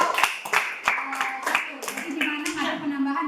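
Classroom clapping in Indonesia: a handful of people clap in uneven bursts at the close of a baking lesson, mixed with speech and children's voices, moderately loud and close.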